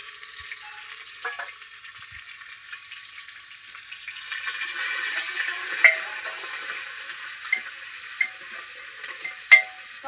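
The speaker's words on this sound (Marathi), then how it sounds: "पाच 10 मिनिटं हलवून घेते" Ground masala fries in oil on a wood-fired chulha for a pea curry, a faint steady sizzle that grows louder partway through, with a few sharp clicks of stirring.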